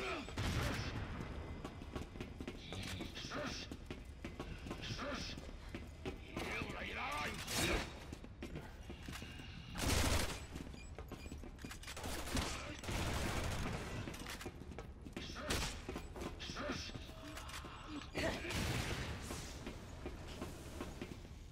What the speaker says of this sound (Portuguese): Se eu atirar ali, será que a arma dispara?